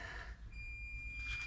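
A steady high electronic beep tone holds for about a second, fairly faint, over low background hum and rumble.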